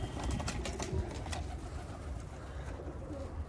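Pigeons coo in a low, repeated rhythm close by in a loft, with a few wing flaps and rustles early on and no talking.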